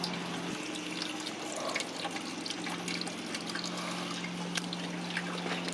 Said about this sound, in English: the radiator cap is now off, and it's coming out a lot faster. It's draining quicker.